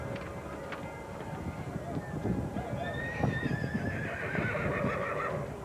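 A horse pulling a buggy in a 1987 holiday parade in Boise lets out a long, high whinny amid clip-clopping hooves and outdoor crowd noise, while a voice talks over the scene.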